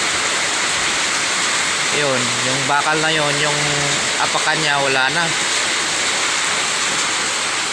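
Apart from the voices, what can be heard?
heavy rain and strong wind during a storm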